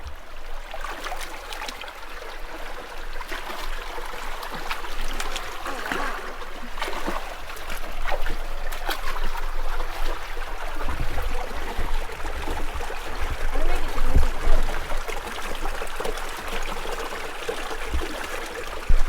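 A Hummer wades through a flowing canyon stream in Colorado, with continuous loud rushing and splashing water and a low rumble beneath, building slightly in the middle; no talking.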